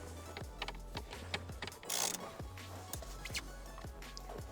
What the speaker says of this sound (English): I want to put in the center bolt.